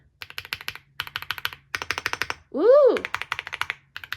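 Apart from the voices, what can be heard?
typing on Rainy 75 mechanical keyboard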